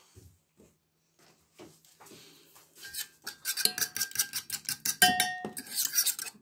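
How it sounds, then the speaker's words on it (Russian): A spoon stirs a pot of porridge cooked with water, salt and baking soda, giving quick, close metallic scrapes and clinks in an irregular rhythm that grow louder and denser toward the end. "Перемешаем."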